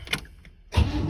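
A cold Chevrolet Blazer engine catches after cranking, a brief whir and clatter giving way to a sudden louder roar that settles into a rough, steady run close by.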